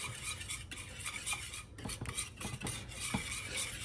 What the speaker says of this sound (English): All right, this sausage gravy, let me give it a little bit of a whisk.